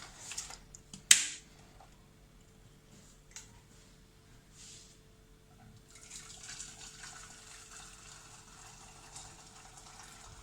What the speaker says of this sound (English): I'm just going to pour hot water over my glass noodles